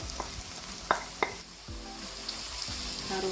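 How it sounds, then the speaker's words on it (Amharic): Carrots sizzle steadily in hot oil for lasagna while a utensil stirs them, making occasional clinks and scrapes against the pan. "ዘይቴ ትንሽ ጠበስ ካለ በኋላ ካሮት እጨምርበታለሁ"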